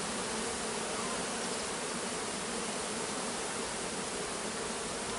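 A honeybee swarm during a shook swarm, a dense continuous buzz of many bees, steady and close.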